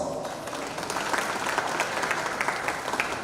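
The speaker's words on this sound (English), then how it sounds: "Please give her a round of applause." Audience at a mayoral customer service lecture giving a round of applause for a panel director, dense steady clapping from a crowd, moderately loud and sustained without speech.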